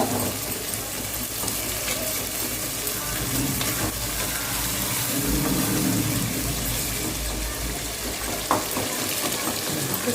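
Tomatoes sautéing for chicken biryani in a pan on an induction stove give off a continuous loud sizzle and crackle, steady for the whole stretch with faint stirring and one small clink near the end.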